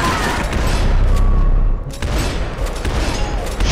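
Sustained, loud gunfire in Max Payne 3 gameplay, with dense overlapping shots and booms forming a continuous roar, a short dip midway, then more firing.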